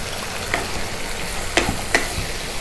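Rajma sundal, red kidney beans, stirred in a hot pan, with a steady sizzle under a few sharp spoon taps and scrapes against the pan, close and without speech.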